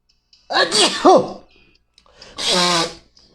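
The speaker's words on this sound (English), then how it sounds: "Oh my god, sorry about that, I sneezed." A close, sudden sneeze in two parts, a sharp voiced intake then an explosive burst, followed by a second breathy sneeze-like exhale.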